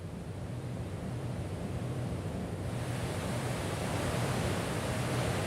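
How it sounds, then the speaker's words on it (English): A loud waterfall in the video game Ghost on the Shore gives a steady, dense roar of rushing water, constant and close with no breaks and no talking. "waterfalls are still loud."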